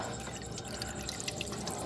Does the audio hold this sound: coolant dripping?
yes